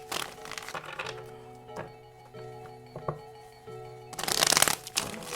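A deck of tarot cards is shuffled in quick riffling bursts with soft taps between, close and crisp, with a louder flurry near the end.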